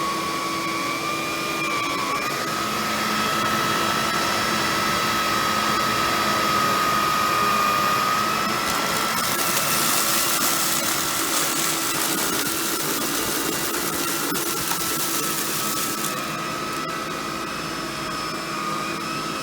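An Electrolux 3500 upright vacuum cleaner runs on its suction-only setting, a steady close motor whine with a high tone that rises partway through and then settles, with no voices.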